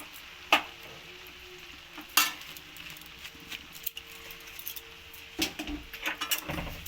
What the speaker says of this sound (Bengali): মিক্সড হয়ে গেছে, এখন আমরা পাস্তাটাকে এর মধ্যে ঢেলে দিলাম।